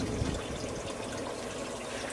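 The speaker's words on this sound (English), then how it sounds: "Let's turn those bubbles back on" Aquaponics fish tank bubbler running as water flows steadily into the tank, a continuous close, moderately loud gushing wash with no talk.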